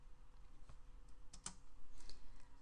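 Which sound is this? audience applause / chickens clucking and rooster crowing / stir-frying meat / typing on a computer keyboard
typing on a computer keyboard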